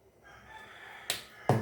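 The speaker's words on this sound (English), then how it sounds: "There goes the chickens, the rooster." A rooster crows faintly in the distance near a home kitchen, a thin, drawn-out call, followed by two sharp, close clicks.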